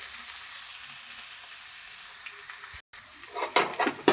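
Shallots, big onions, garlic, fennel seeds and curry leaves sizzle steadily in hot oil in a pan for a spicy crab gravy, a close hiss that briefly drops out, then brief stirring scrapes.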